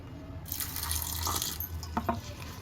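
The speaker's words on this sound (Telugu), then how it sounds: "అలాగే కొన్ని నీళ్ళు" Water poured into a bowl of idli batter mixed with chopped coriander, onion and salt, a steady splashing pour starting after a brief quiet moment and running to the end, with a few small plops near the close.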